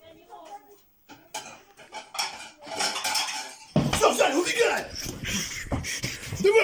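Plate and cutlery clattering in quick, irregular clinks and scrapes, sparse at first and then busier and louder, heard close by with quiet movement around it.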